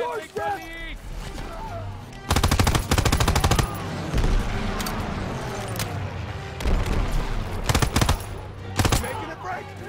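Rapid automatic gunfire from Call of Duty WWII, loud bursts of machine-gun fire and scattered shots recurring through the scene, with shouted voices between the bursts.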